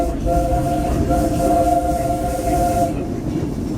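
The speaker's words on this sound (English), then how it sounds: "from the comfort of the genuine steam-powered train" A steam train on the Disneyland Railroad rumbles along steadily with heavy low-frequency clatter, while a sustained tonal whistle-like hum rises over it for a few seconds.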